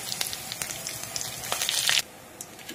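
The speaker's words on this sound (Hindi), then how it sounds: "तेल गरम हो गया है, इसमें हम 1 चम्मच जीरा डाल दे रहे हैं और इसमें हम तेज पत्ता भी डाल दे रहे हैं।" Cumin seeds and a bay leaf hit hot oil in a kadai for chana dal tadka, giving a close, steady sizzle with crackling pops that swell briefly, then drop back to a softer hiss.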